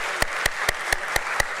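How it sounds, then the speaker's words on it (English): Applause at a DOMS Industries Limited stock exchange listing ceremony at BSE: a steady broadband wash of clapping with sharp louder claps popping out at regular intervals, roughly every quarter second, no voices over it. "let's have a huge round of applause for DOMS Industries Limited"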